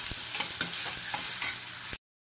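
A spoon scrapes and stirs chopped onion and tomato frying in oil in a kadhai for methi pithla, steady sizzling with rhythmic scraping up close, ending abruptly after about two seconds.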